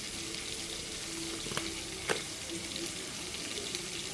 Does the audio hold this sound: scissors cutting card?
no